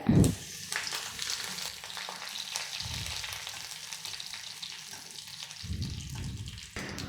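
Hot oil sizzles and crackles steadily as dried red chillies and curry leaves go into a mustard-seed tempering for carrot pachadi, an Onam dish, with a brief louder burst at the start and near the end, no talk.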